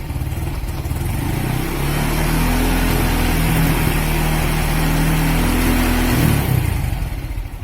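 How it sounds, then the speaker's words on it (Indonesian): A car engine held at a steady 5000 rpm during a charging-voltage test, a loud continuous droning hum with sustained tones that eases off near the end; no talk. "Kemudian berikan putaran mesin pada 5000 rpm."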